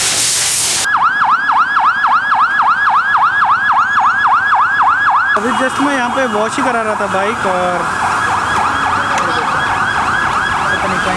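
A fire vehicle's siren passes near a motorbike wash in India. A loud, fast, rhythmic wail repeats close by, then shifts lower and fades as the vehicle goes past. Someone speaks over the second half.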